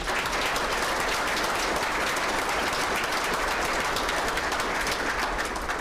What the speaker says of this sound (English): How about another round of applause for all of our recipients tonight?